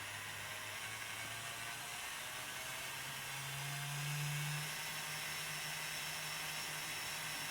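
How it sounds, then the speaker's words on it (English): A Bachmann 4CEP EMU model train's motor runs near its top speed after servicing, giving a faint steady whir with a low hum that swells briefly midway, alone without talk. "that doesn't sound any different to a normal motor"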